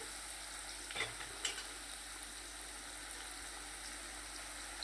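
Chopped onion and green garlic frying in a pan, a soft continuous sizzle, faint and even, with a couple of brief stirring scrapes near the beginning and no one speaking.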